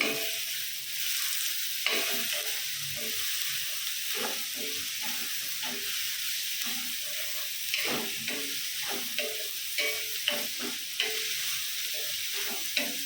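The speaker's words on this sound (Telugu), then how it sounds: "క్యాబేజ్ కూడా తొందరగా ఫ్రై అవుతుంది కానీ కొంచెం ఆయిల్ అయితే కొంచెమే వేసినాము" Beans, cabbage, carrot and onion fry in a little oil in a kadai for paneer fried rice, a steady close sizzle with repeated scraping and stirring strokes of a spatula throughout.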